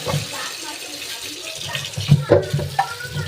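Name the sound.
washing carrots in cold water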